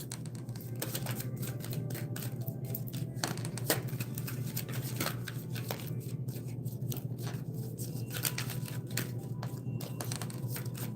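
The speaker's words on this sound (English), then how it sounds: "Let me shuffle these cards." Playing cards being shuffled, a rapid series of soft clicks and riffling snaps repeating over several seconds, close by with a low hum behind.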